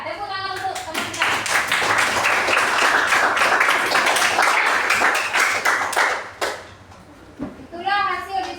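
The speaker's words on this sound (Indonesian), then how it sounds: "tepuk tangan untuk teman kita" Classmates in a school classroom clap for a group presentation, a loud burst of rapid clapping lasting about five seconds, with children's voices before and after it.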